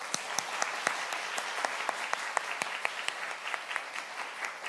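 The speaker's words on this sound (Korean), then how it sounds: "우리 모두를 위해서 큰 박수 한번 보내주세요" A lecture audience at a World Youth Day special talk breaks into steady applause, with distinct sharp claps standing out through the dense, even clapping for nearly five seconds.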